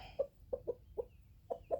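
Chickens give six short, soft clucks in an uneven rhythm, close by, over quiet low background noise.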